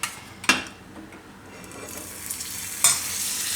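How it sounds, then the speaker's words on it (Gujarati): A roti roasting in ghee on a pan over a very low flame gives a soft, steady sizzle, broken by a few sharp scraping clicks of a spatula against the pan. "થોડુંક આપણે આમાં હવે ઘીથી શેકી લેવું એને"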